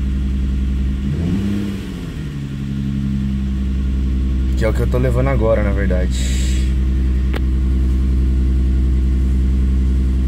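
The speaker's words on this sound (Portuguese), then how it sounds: "O carro acordou tudo torto, velho. Parece que tá falhando, né?" Hyundai Azera engine idling rough after sitting unused for over a week, a steady low drone with uneven pulsing and a brief rev, heard close with someone talking over it.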